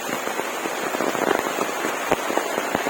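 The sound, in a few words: rain falling on a farm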